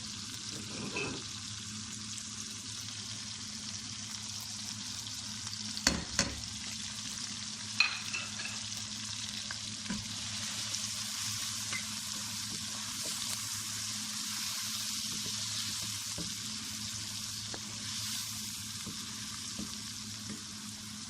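Chicken with spices frying and being stirred in a pan, a continuous close sizzle with a steady hiss and a few clinks and scrapes of the utensil, no voices.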